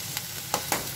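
Broad beans for a curry sizzle and get stirred in a kadai, with a low steady frying hiss broken by a few sharp scraping strokes.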